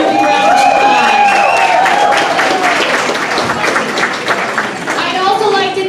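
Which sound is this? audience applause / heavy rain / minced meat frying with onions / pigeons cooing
audience applause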